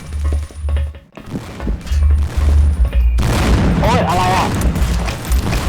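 Booming RPG explosions and bursts of gunfire from the online shooter Blockade 3D, heavy and continuous, with a person talking over the action.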